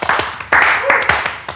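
Applause for the band comes in short bursts of clapping from a small group, mixed with cheering voices, close and fairly loud.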